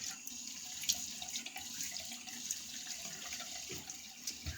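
Tap water runs steadily into a sink to wet the face before a double-edge razor shave, a fairly soft, continuous hiss with small splashes and no talk.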